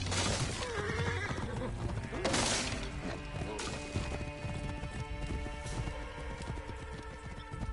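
A horse whinnies and gallops with rapid clip-clop hoofbeats in the Assassin's Creed Origins video game, loud and close, amid crashing impacts and busy action sounds during a chariot race.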